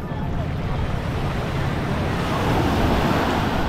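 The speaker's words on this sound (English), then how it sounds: "So we're at the beach now" Surf at a Hawaii beach gives a continuous broad rushing wash of waves, loud and close, with wind buffeting the microphone and the roar swelling slightly toward the end.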